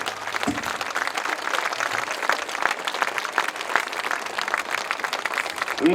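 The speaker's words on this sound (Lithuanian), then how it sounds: "Aplodismentai jai!" Audience applause at a rock show, a dense steady wash of clapping that holds at moderate level throughout, with a brief louder swell near the end.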